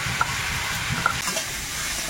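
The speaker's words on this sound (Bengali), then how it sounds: "ডাঁটাটা ভাজা হচ্ছে" Stalks of a leafy vegetable and potato pieces fry in a pan over a village clay stove, giving a steady close sizzle with faint stirring clicks throughout.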